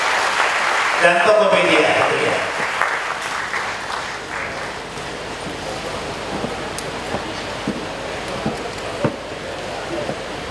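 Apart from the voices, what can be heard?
applause at the launch of Bandung city page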